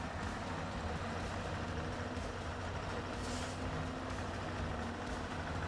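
Dyson Diesel truck in SnowRunner on a Michigan map, a steady loud droning engine rumble with hissing, unbroken throughout with no talk.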